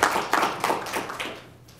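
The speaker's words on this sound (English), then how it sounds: "You get applause already, and you haven't said anything." Scattered clapping from a small audience at a Brookings event comes as a few distinct bursts of hand claps, moderately loud at first and then tapering off, with no voices over it.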